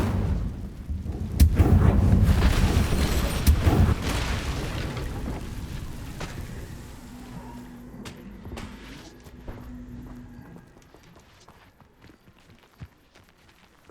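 The Incendio fire spell cast in Hogwarts Legacy, a loud booming whoosh of flame that roars for a few seconds and then fades into a crackling tail with scattered small clicks.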